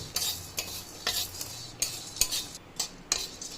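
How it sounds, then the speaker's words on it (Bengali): Whole cloves dry-roasting in a pan over a low flame for a biryani spice blend, a spoon or spatula scraping and stirring them in a steady run of soft, close rattling strokes with no one talking. "এটাকেও কড়া করে ভেজে নেব"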